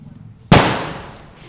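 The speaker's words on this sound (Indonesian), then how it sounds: "Kali ini coba kita serang dengan dua meriam seperti itu sekaligus ya" A single sharp, loud blast from two spirit-fuelled firework cannons fired together, a sudden bang followed by a rushing, slowly fading roar.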